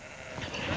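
A sheep in the PlayStation game Sheep gives a short bleat, moderately loud and near, rising toward the end of a brief stretch with no talk over it.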